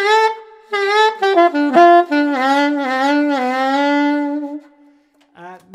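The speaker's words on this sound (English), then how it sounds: "So they'll drop their jaw down so far that the sound will be degraded" A saxophone played with an overdone lip slur and the jaw dropped too far, giving a degraded, wobbly tone as the pitch bends and smears across a long phrase, with a short note at the end.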